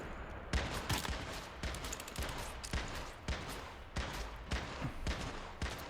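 Rapid bursts of gunfire from a shooter game, with repeated loud shots in clusters running continuously across the stretch.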